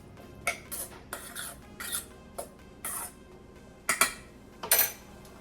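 Salad ingredients being mixed together in a bowl at home, heard as a series of short, close scraping and clinking strokes in an irregular rhythm, with no talking.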